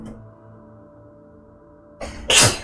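A sudden sneeze bursts out after a quiet stretch, sharp and close, with a brief intake just before the loud explosive release.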